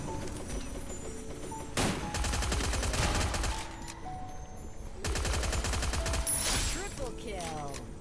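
Gunfire in the Free Fire battle royale mobile game: two sustained bursts of rapid automatic shots, each a dense rattle lasting about two seconds, with single shots and game effects between them.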